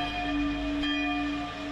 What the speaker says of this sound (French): Joseph Ratzinger vient de ce village en Bavière où les cloches ont retenti aujourd'hui